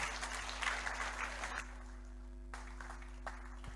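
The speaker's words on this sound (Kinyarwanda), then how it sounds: "Muhe Yesu amashyi menshi cyane kuko agira neza" A church congregation claps and applauds for Jesus during a service, a burst of clapping for about a second and a half that cuts off into quiet room noise.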